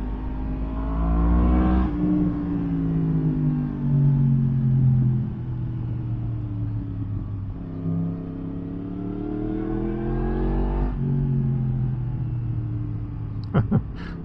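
A Yamaha motorcycle accelerating hard with a quick shifter on a Lake District road, its engine note climbing steadily through several quick upshifts, each marked by a brief dip in pitch, loud and close, ending with a couple of sharp pops.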